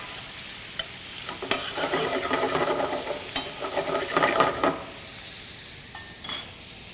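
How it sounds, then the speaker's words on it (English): Bacon frying in a pan for baked beans, a soft continuous sizzle with spatula stirring and scraping bursts in the middle, close and moderately loud. "Taking a look at the bacon, I want to get it kind of a light brown before I add the onions."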